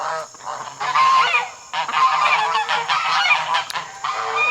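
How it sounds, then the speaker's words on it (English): Geese honk loudly in a noisy, overlapping chorus, calls coming in bursts with brief pauses between them. "and then our wild geese and Jean"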